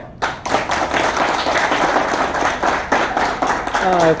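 An audience at a training session bursts into clapping, a dense, steady patter of many hands with some voices mixed in, fading toward the end.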